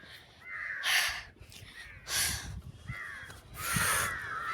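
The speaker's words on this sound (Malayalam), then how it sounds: "ഇവിടെ മൊത്തം കാക്കൻ്റെ ഒച്ചയുണ്ട്." Crows caw loudly around the Derby Green Mahindra Club Resort in Ooty. There are three separate harsh bursts about a second apart, each trailing into a rasping call, over quiet outdoor background.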